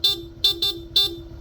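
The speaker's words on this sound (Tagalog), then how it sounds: "stock horn," A Honda ADV160 scooter's stock horn honks four times in short bursts, the second and third close together, sounding loud and near over a low idling hum.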